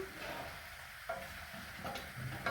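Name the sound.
soup simmering in a pot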